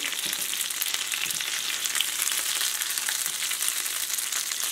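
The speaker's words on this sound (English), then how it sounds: "I'm going to fry them up till they're nice and crispy." Birria tacos fry in hot oil until crispy, a dense continuous sizzle and crackle filling the clip at close range, loud and unbroken, with no voices.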